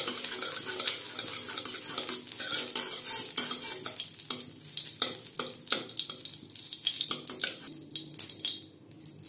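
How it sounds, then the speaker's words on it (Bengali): Ghee sizzles in a hot wok while making mango sandesh, a steady crackling hiss broken by repeated scraping stirs and clinks, loud and close throughout, easing slightly near the end. "কড়াই গরম বসিয়ে দিয়েছি, দিয়ে দিচ্ছি ঘি।"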